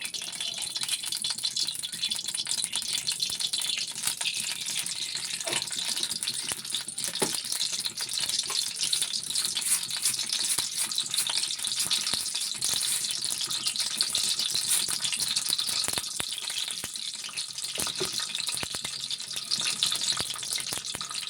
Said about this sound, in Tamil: தாளிக்கும் போது கொஞ்சம் கடுகு வெந்தயம் போட்டு தாளிச்சிக்கணும்.